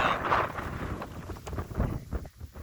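Strong gusty wind on a hiking trail in Mallorca, a rough, buffeting rush across the microphone, fairly loud and continuous for a few seconds, with no voices.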